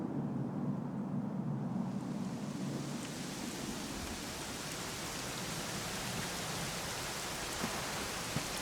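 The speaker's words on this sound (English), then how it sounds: "it was raining like this the last time I ever saw her" Steady, dense rainfall in Dragon Quest XI hissing continuously, with a low rumble early on that fades, heard alone at moderate level.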